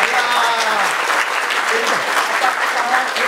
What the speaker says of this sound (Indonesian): semua tepuk tangan dong